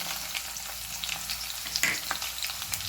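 Crushed garlic hits hot oil with mustard seeds, giving a steady crackling sizzle with scattered pops and spatters and a brief stirring scrape near the middle; no talking.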